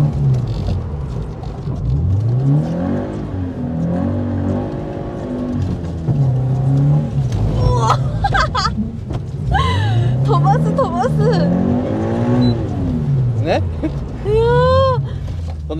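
A car drifts around a corner during a drifting lesson with pylons, its engine rising and falling in pitch as it revs hard; people talk continuously over the engine noise.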